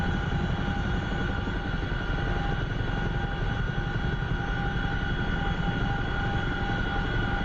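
Steady, loud rotor and turbine drone of a Chinook helicopter in the DCS flight simulator, landing in a field near orchards, continuous with no letup and no voices.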